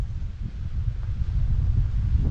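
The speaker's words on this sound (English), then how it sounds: "even in this incredible wind" Strong wind buffets the microphone on a walk at Palmanova, Mallorca. Low, gusty rumbling roars continuously and varies in strength, with no talking.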